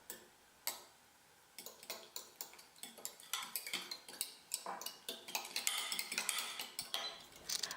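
Eggs with sugar and salt being beaten together in a bowl for tamagoyaki, a rapid run of close clicking and tapping as the utensil hits the bowl, starting after a brief pause and growing busier.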